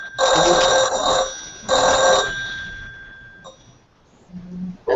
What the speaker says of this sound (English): And I hear Rich answering the phone